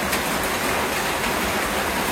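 Rain falling at night in a Bangladeshi village, a dense, even rush of water close by that holds steady throughout with no talk.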